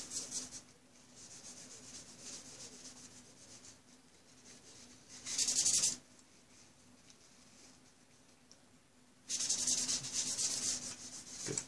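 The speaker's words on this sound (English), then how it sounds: "Good polishing." A surface is polished by hand rubbing, with soft, scratchy strokes that come in bursts and pauses, close and fairly quiet, with a couple of louder, harsher passes and no voices.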